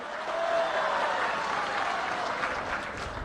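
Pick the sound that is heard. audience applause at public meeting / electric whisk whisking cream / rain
audience applause at public meeting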